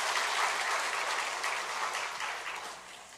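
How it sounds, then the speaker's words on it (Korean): A church congregation claps to encourage the choir, a full, even burst of applause filling the room that gradually softens over a few seconds. "다시 한번 박수로 격려해 주시기 바랍니다"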